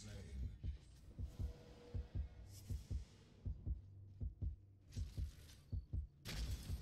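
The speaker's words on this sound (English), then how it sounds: "You actually hear my heartbeat." A low-health heartbeat thumps in the Paragon video game, a steady, fairly fast double-beat pulse repeating throughout at low level, with bursts of brighter game noise breaking in now and then.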